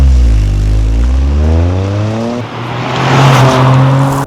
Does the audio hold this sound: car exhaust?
yes